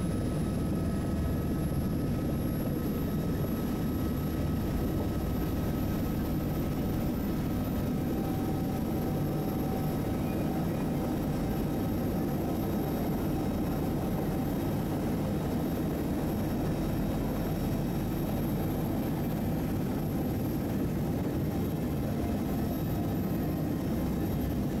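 A helicopter's steady, loud rotor and engine drone fills the whole stretch, constant and close with no voices, at the foot of the Canada Glacier in Antarctica.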